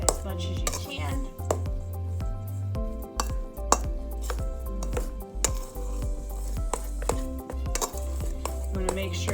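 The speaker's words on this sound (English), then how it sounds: "you want to mix all the dry ingredients together and get all of those lumps out as much as you can" Dry ingredients for keto tamales being mixed in a bowl, a steady run of scraping, knocking and stirring clatter from a utensil against the bowl, close and continuous, with a voice talking faintly beneath.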